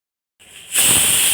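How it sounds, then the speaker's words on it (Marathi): After a moment of silence, a pressure cooker whistle on a stove cooking masale bhat (spiced rice) starts as a rising hiss and swells into a loud, sustained high-pitched steam whistle. "कुकरची शिट्टी झाली, एवढी शिट्टी झाली."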